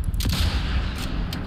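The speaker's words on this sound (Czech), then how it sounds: "Ups, to byl ten výstřel v pozadí" A video game gunshot rings out in the background, a sharp crack or two amid a rumbling, noisy game soundtrack.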